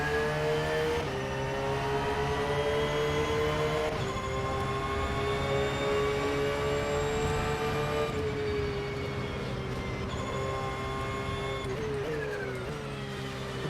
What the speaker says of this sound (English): I love the sound of those straight car gears.